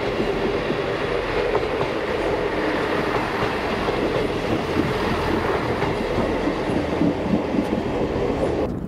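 An East Midlands Railway passenger train, unit 158-856, rolls by nearby at Derby, a continuous rumbling wash with faint rhythmic clacking of wheels over rail joints.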